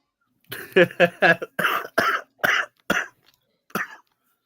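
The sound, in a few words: cough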